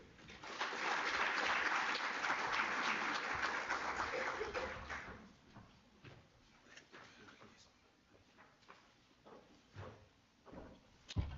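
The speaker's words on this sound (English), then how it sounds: "let's give him another round of applause" A research seminar audience claps in a loud, dense burst of applause lasting about five seconds, then it fades to scattered knocks and quiet room noise.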